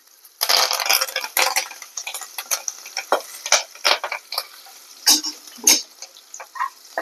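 Green chillies and crushed curry leaves crackle and spit in hot oil for a Maharashtrian jackfruit sabzi, with loud, close, irregular popping bursts that rise suddenly and keep going.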